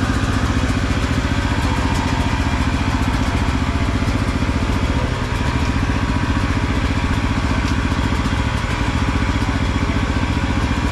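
A Beta 125 motorcycle engine idling with its revs set high, a loud, close, steady mechanical chug with a rapid even pulse and no voices over it.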